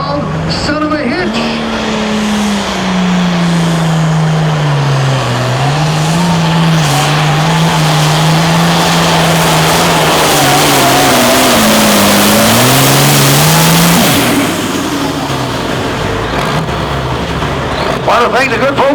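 A Wisconsin pulling tractor called Son of a Hitch at a 9,300 lb class pull, its engine roaring loud and sustained for many seconds with pitch rising and sagging under load before cutting off, while an announcer talks over it.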